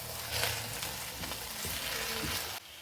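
Carrot halwa with khoya fries in a pan, a steady sizzle with occasional stirring scrapes, close and fairly loud, cutting off abruptly near the end.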